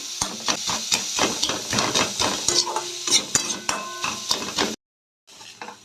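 Vegetables are stir-fried in a pan for a spicy savory patishapta filling. Rapid spatula scrapes and clinks against the metal pan sound over a sizzle, close and busy, then cut out briefly before resuming softly.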